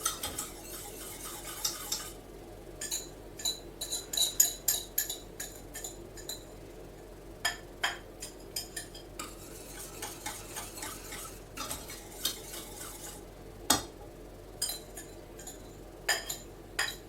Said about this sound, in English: as long as I whisk these eggs fast, it should be fine